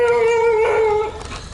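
A street dog in rural Thailand gives a single drawn-out howl close by, a sustained tonal wail that bends and fades within about a second.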